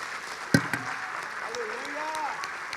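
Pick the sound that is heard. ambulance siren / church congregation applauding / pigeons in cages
church congregation applauding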